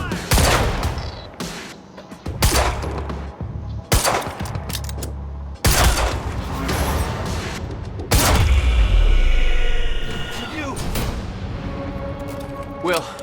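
Heavy gunfire from a firefight in the video game Quantum Break: loud repeated bursts and booming shots through the first half, then a sustained roaring fusillade, with shouted voices mixed in.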